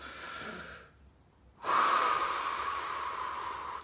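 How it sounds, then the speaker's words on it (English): One slow, deep breath close up: a soft exhale, a short pause, then a long, strong airy inhale that holds steady. "Breathing deep into the stomach."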